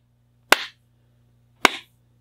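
Two sharp hand claps about a second apart, close and loud against a quiet room with a faint steady electrical hum.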